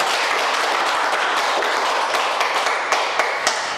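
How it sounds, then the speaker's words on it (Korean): Congregation applause during a church sermon: a dense, steady wash of many hands clapping fills the room, with a few sharper individual claps standing out near the end. "하나님 앞에 영광의 박수로 드립니다"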